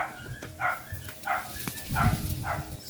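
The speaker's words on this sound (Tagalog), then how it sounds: "bakit ang ingay ng aso sa taas?" A dog barks repeatedly from somewhere overhead, sharp mid-distance yaps in an uneven rhythm of about five barks, heard alone without talk.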